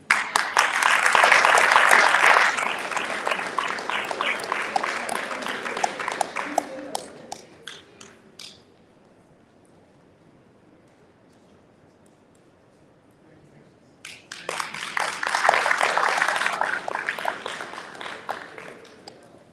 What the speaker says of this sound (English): a round of applause for all the students and administrators